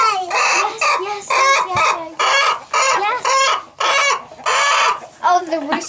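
A hen loudly clucks and cackles after laying an egg, a run of repeated, insistent bursts close to the microphone with short pauses between them.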